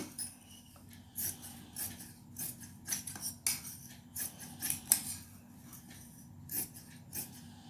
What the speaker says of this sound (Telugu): ఇప్పుడు ఈ పీస్ తీసేసి మనం ఈ ఎక్స్ట్రా పీస్ని మనం కట్ చేసేసుకుందాం